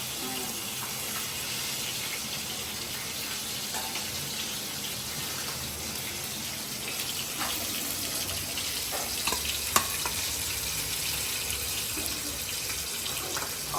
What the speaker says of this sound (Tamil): ஆவி பறக்க ஃபிஷ் ஃப்ரை